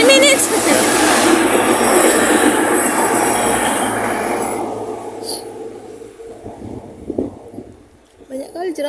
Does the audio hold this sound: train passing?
yes